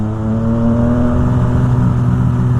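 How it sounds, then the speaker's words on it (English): A loud motorcycle engine revs steadily under throttle with the clutch held in, a sustained droning growl that stays close and constant throughout. "hold the clutch in a little bit and give it some throttle, just so that I can make more noise"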